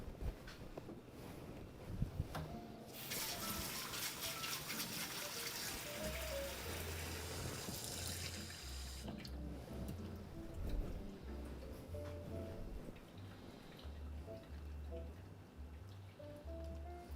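Water runs from a kitchen tap while apple pie ingredients are being prepared: a steady hissing rush that swells for several seconds, then eases into a softer trickle over a low, steady background hum.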